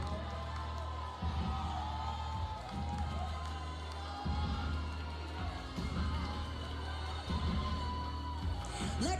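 A large arena audience at the Miss World pageant cheers and whoops steadily, a dense, loud roar of crowd noise with brief swells, sustained throughout with a voice over a microphone mixed in.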